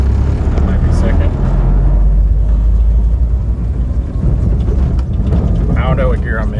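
A 1991 VW Doka Syncro 4x4 three-door truck with a five-speed gearbox runs with a loud, steady engine rumble while gears are shifted, a voice speaking briefly over it near the end.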